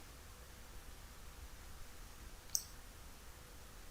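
A single sharp keypress on a computer keyboard, tapped to leave a screen in accounting software, sounds as one faint, brief click against a steady hiss of background noise.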